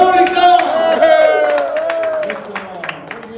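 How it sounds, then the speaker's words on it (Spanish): Theatre audience at a magic show applauding and cheering, a full crowd clapping with loud whoops at first that thin out and fade over a few seconds. "un aplauso"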